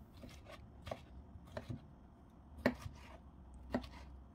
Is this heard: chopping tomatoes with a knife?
yes